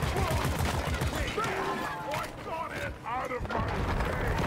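Rapid gunfire and mechanical clatter from the cooperative mining shooter Deep Rock Galactic fill the scene, a dense continuous barrage with bursts of game effects throughout, loud and sustained.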